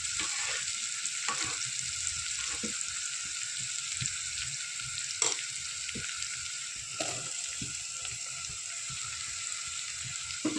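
Tomatoes frying with green onion in a hot pan for an eggplant oro, a steady close sizzle broken by occasional stirring scrapes and clinks, with no voices.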